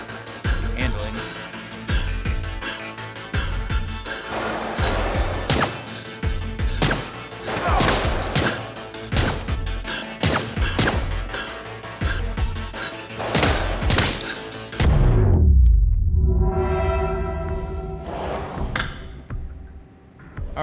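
Gunfire rings out in the video game Get Even, with a long run of sharp, loud shots in irregular bursts, followed by a deep rumbling swell at the end.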